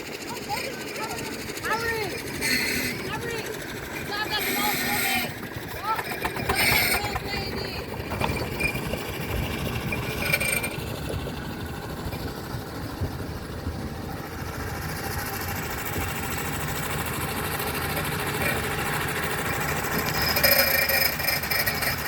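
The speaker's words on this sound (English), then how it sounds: "there we see a steam wagon and a showman's engine approaching, moving at speed" A steam wagon and showman's engine rumble and clank as they approach at speed at a steam rally, a busy mechanical roar with rattling and chuffing that grows steadily.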